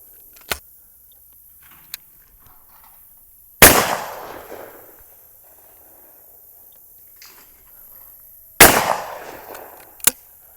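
Two loud, sharp shotgun blasts about five seconds apart at a clay target range, each with a long fading echo, with a few fainter distant clicks and pops around them.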